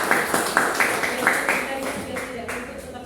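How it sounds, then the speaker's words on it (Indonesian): A classroom of students claps together in a quick, rhythmic pattern of sharp bursts. The clapping is fairly close, and a teacher's voice is mixed in with it. "Kita kasih tepuk tangan dulu"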